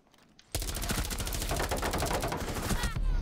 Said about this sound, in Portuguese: os tiros bateram tudo na madeira